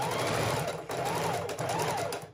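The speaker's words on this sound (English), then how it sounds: "needle down, foot up, pivot, put it back down, and sew up that other side" A sewing machine stitching fabric, ribbon and lace for a junk journal, running in a steady fast whirring chatter with a brief pause, close and loud.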